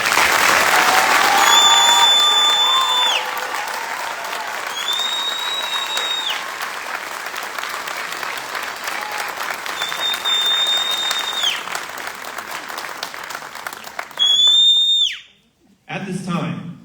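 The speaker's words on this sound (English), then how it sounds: "please join me in a round of applause for the Army's newest drill sergeants" Loud applause and cheering from a crowd at an Army drill sergeant graduation, Class 014-25, with whoops and a few piercing whistles over the clapping, swelling early, then tapering before a final burst and fade.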